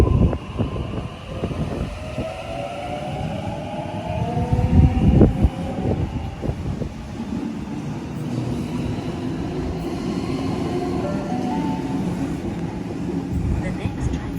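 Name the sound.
train passing through Newtown station platform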